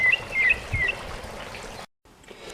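Small backyard bird, a nesting one, gives a few short high chirps and tweets over a soft outdoor wash with faint trickling, then a brief hush before quiet ambience resumes.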